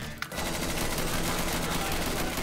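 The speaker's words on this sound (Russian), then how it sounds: "Да не стреляй ты по мне, дурак" Continuous loud automatic gunfire from a teammate in the video game Insurgency, a dense unbroken burst after a brief sharp opening shot.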